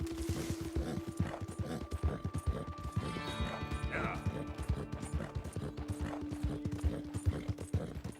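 A dapple dark gray Hungarian Halfbred horse's hooves clip-clop at a steady rhythmic trot in a Western video game, close and clear, with someone talking over the hoofbeats throughout.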